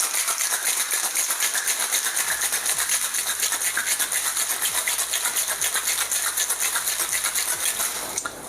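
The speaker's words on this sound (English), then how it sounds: "let's add some ice to our shaker and give it a whirl" A Tommy's Margarita gets shaken hard in an ice-filled metal cocktail shaker, a fast, steady rattle of ice slamming back and forth that stays loud and close for about eight seconds before stopping, with no voices.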